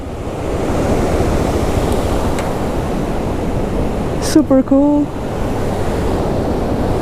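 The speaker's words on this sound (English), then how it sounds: "I really want to stop here and take a look at this gorgeous river" A gorgeous river in Peru flows with a steady broadband rush throughout, fairly loud and constant, while a voice briefly speaks over it near the middle.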